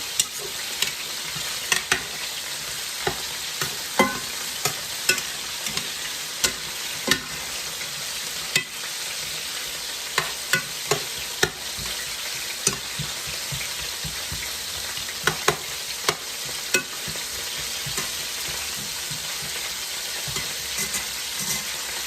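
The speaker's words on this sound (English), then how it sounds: "I need my onion to caramelize a little." Onion frying and caramelizing in a pan makes a steady, quiet sizzle, punctuated by regular sharp clicks and scrapes of stirring close by.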